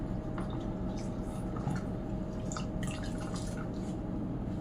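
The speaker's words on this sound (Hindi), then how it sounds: "फिर से हम स्पंज को डुबा रहे हैं इस पानी में।" Sponge dipped into a bowl of water during a facial cleansing routine, giving soft drips and light watery splashes over a steady background hiss, close and fairly quiet with no talk.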